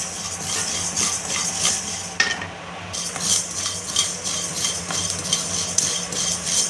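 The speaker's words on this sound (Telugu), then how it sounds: "ఈ ఆవాలు అనేది కూడా వేగింది ఫ్రెండ్స్" Mustard seeds roasting in a pan, giving a dense, close crackle and rustle with repeated scraping and clinking of a spoon against the metal as they are stirred.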